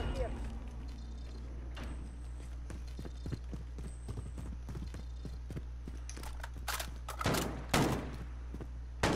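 Rapid bursts of gunfire ring out in the shooter game Call of Duty: Modern Warfare, crackling in clusters of sharp shots over a constant low drone, with players talking over the action.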